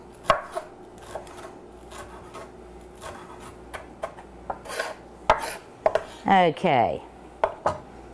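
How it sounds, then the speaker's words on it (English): A knife chops fresh parsley on a cutting board in a kitchen, with sharp, close, irregular taps that speed into a quick burst of rapid chops. A voice briefly speaks a single word. "I'm going to start chopping up a little bit of parsley."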